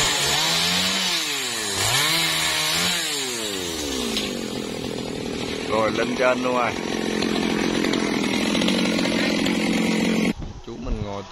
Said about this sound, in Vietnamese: bây giờ chuẩn bị máy cưa để cưa cái đọt hay gì đây.